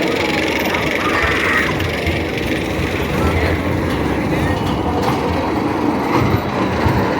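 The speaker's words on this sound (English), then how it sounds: "Roadrunner Express is an Arrow mine train coaster" Continuous clattering and rattling of an Arrow mine train roller coaster, Roadrunner Express at Six Flags Fiesta Texas, on its track, loud and close, with a metallic ratcheting texture throughout.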